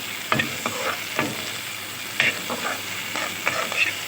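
Onion and ground ginger frying in a pan for a stuffed karela recipe, a loud close sizzle broken by several sharp scraping stirs of a spoon, with no one talking.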